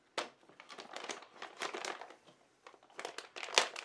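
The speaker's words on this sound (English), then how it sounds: "You'll need plastic bag number 2" Crinkly rustling of a plastic parts bag from an RC car kit being handled and torn open, in irregular bursts of crackling, close up.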